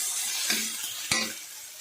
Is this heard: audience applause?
no